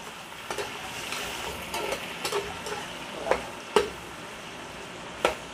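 Chopped onions fry in oil left over from frying chicken, giving a soft continuous sizzle close by, broken by a few sharp clicks and stirring scrapes of a utensil against the pan.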